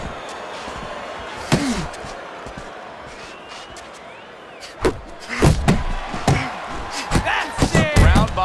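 Punches land in the Fight Night Champion boxing video game as sharp, heavy thuds. They come scattered at first and then in quick clusters, with crowd noise underneath.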